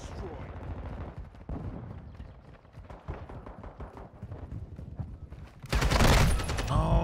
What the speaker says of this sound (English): Bro, don't you hear the gunfire?